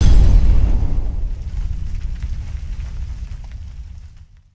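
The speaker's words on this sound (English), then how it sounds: "Cue explosion!" A loud explosion sound effect hits at once as a deep, rumbling boom, then decays slowly into a fading low roar over several seconds, with no voices.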